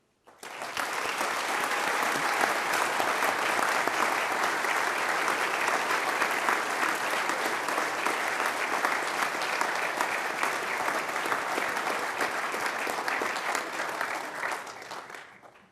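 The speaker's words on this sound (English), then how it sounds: "final round of applause" Sustained applause from the audience at a Liverpool University School of Environmental Sciences graduation ceremony, dense even clapping that holds steady for about fifteen seconds before tapering off.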